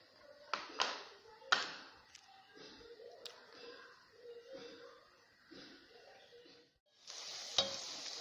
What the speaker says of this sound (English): So now I will stir fry the tomato puree